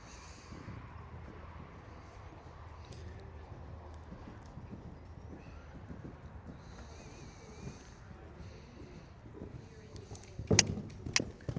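Horse cantering during a riding lesson, soft rhythmic hoofbeats clip-clopping at a steady distance, faint and low, with a sharper knock near the end.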